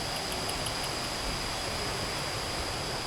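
Water from the Mae Kampong waterfall rushes steadily near Chiang Mai, a constant loud hiss and roar with no pauses, heard alone without voices.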